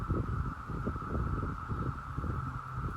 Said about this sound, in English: sorry about the noise in the background. The cicadas are out